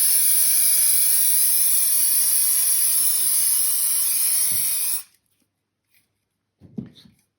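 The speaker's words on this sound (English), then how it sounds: "you can also use hairspray" Hairspray hisses from an aerosol can in one long, loud, continuous burst as it is sprayed over a pencil drawing for fixing, then cuts off abruptly, followed by a brief soft knock.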